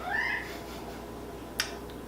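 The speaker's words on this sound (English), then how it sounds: "My cat likes to be in every video that I ever make, so you might hear him meowing" A single faint meow from a cat rises and falls briefly at the start, followed by quiet room noise and a small click.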